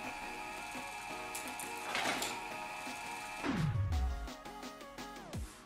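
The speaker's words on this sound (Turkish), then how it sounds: "her boyuttan mermileri dizmiş eleman ve onları bu parçalama makinesine atacak" A shredding machine grinds AK-47 bullets with steady mechanical whirring and clattering, then a deep falling groan as the motor winds down near the end.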